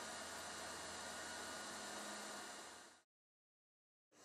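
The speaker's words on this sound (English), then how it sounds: "With the heat gun fully warmed to the required temperature, we can now apply the nozzle between the two sheets" A heat gun warming up for welding ground gas membrane sheets runs as a loud, steady blowing hiss for about three seconds, then stops abruptly, with silence before the whoosh briefly starts again.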